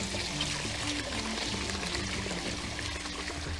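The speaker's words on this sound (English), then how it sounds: "we're gonna wash the rice" Cold tap water pours steadily and noisily over uncooked rice in a bowl for rinsing, a constant close splashing rush with no pause and no talking.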